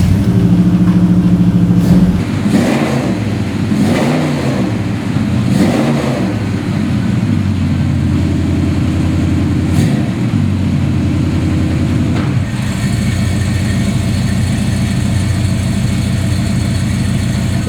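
A 1968 Chevrolet Chevelle SS 396 convertible V8 rumbles loudly at idle, blips through a few sharp revs early on, then settles into a steady, deep idle.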